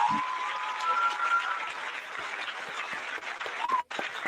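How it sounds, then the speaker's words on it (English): Applause from a crowd, a steady dense patter of many hands clapping at moderate distance for several seconds, dipping briefly near the end. "You hear that applause?"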